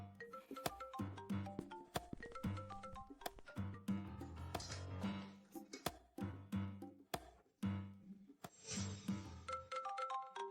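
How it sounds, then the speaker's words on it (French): A phone ringtone plays a bright, repeating melodic pattern of electronic tones, loud and continuous for about ten seconds with no voices over it. "Ton téléphone sonne."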